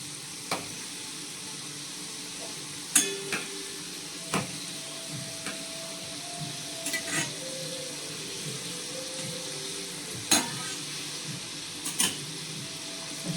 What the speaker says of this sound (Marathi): असे सर्व तळून घ्या.